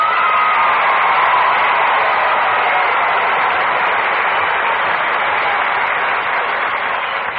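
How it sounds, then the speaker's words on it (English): Radio show studio audience gives a broad, steady round of clapping and crowd noise. The applause is loud and sustained, with a slightly muffled old-broadcast tone, and no voices over it. "that's a mighty fine round of applause"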